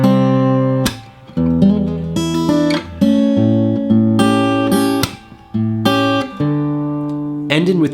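Guitar plays the opening line of a song, a sequence of plucked chords and single notes that each ring out, played alone and close with no talking.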